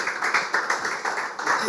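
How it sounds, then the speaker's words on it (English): Brief applause from an event audience acknowledging a speaker, a short burst of close, fairly loud clapping with slightly uneven rhythm throughout. "A round of applause again for him"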